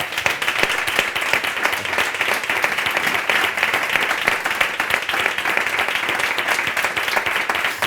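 Big, sustained applause from an audience at a mental health debate event, dense steady clapping filling the whole stretch without pause, fairly loud and close.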